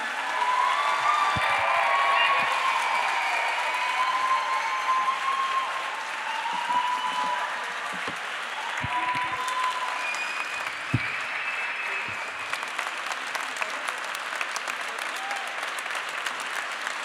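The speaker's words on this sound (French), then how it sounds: "je vous propose d'applaudir très, très chaleureusement Mélanie." A conference audience applauds warmly at a partnership event for the Métropole Européenne de Lille, dense sustained clapping lasting well over fifteen seconds, easing slightly midway and then carrying on, with scattered voices mixed in.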